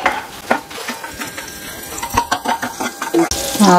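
Whole spices, star anise, cloves, cardamom and cinnamon sticks, crackle and rustle as they roast in a pan, with light stirring scrapes and a voice talking over the cooking.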